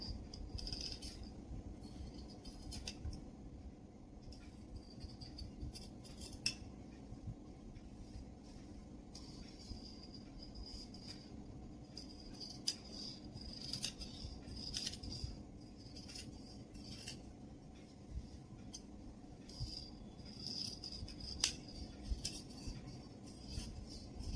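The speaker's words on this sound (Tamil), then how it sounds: "ஸோ பேக் ஆர்மோல் கட் பண்றேன்." Scissors cut the back armhole of salwar lining fabric in a steady series of close, crisp snips and slides across the cloth, with faint handling noise and no talking.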